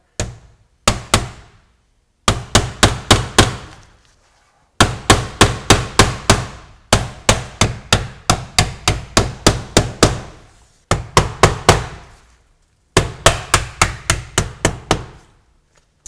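A trim nail is hammered into a ridge vent cap on a roof in loud, close bursts of sharp knocks, each run of several quick strikes separated by short silent pauses.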